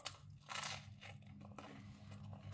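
Crunchy pizza is bitten and chewed close to the mic with crisp crackling bursts over a steady low hum.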